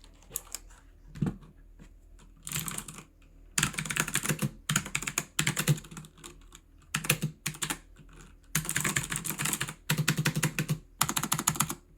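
Typing on a $30 Aukey KM-G12 mechanical keyboard: close, crisp clicky keystrokes in rapid bursts with short pauses between them, the clicks carrying a slightly odd clack.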